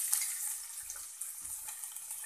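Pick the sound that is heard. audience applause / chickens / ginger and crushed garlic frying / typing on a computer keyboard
ginger and crushed garlic frying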